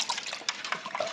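Water splashing and running while a cooking pot is washed out after making chicken curry, a short burst of wet sloshing close by.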